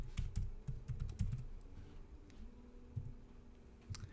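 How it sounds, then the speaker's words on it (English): Computer keyboard typed in short bursts of close, crisp key clicks while code is entered, pausing briefly between words, with no talking. "So I'm going to type Boolean."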